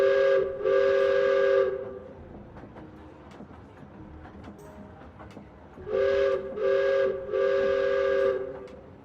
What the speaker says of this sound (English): Up ahead, y'all hear the train again.